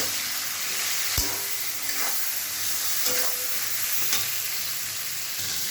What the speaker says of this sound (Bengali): মাছের মাথা ভাজা হয়ে গেছে এবার শাক করে দেবো